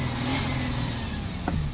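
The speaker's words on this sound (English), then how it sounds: "just gonna let you hear how the car sounds." An Audi A8 D4 with a stage 1 remap idles or revs gently, a steady, full engine hum with a rushing broadband texture, heard nearby with no voices.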